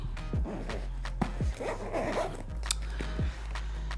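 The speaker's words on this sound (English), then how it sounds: "Zip this up." A zipper on an Osprey Ozone Slim backpack is drawn in several quick, close, rasping pulls, with a low steady hum underneath and no talking.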